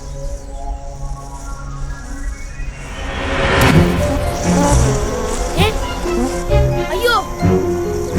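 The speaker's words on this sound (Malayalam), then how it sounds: "തേനീച്ചകൾ നമ്മെ ആക്രമിക്കും." A swarm of bees attacks in an animated cartoon, their buzzing woven into a busy, loud mix with children's voices and cartoon sound effects that swell about halfway through.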